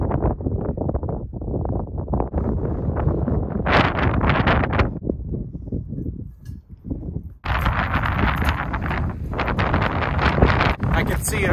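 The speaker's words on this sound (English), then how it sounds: "it's super windy, but really pretty." Strong wind gusts roar and buffet the microphone on an open, exposed mountain summit near a fire tower in the White Mountains of New Hampshire, loud and continuous while a person talks over it.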